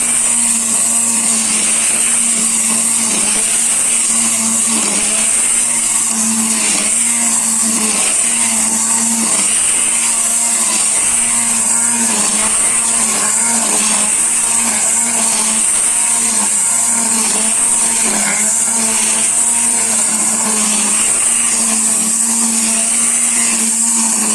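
A cordless electric APRO grass trimmer cutting a lawn, holding a steady high-pitched whine and a whirring hum without letup, close and loud, with no talking.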